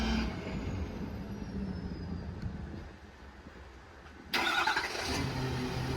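A diesel engine on a 2015 Ford F-550 4x4 mechanics truck with 153k miles and a Stellar 7621 crane, started from a remote: after a quieter idle stretch, the engine abruptly catches and runs loud and steady near the end.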